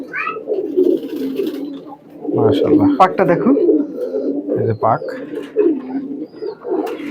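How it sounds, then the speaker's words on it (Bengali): Teddy pigeons, a breeder's birds, coo close by in low, throaty repeated calls, with a few brighter chirps mixed in. Someone talks over the cooing throughout. "এটা সাকিব বাট্টি সাহেবের সালেরা ট্যাডি কবুতর"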